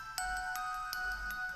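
A mobile phone ringing with a steady electronic ringtone, sustained bright tones with evenly spaced chime accents repeating about every 0.4 seconds, moderately quiet with no voices.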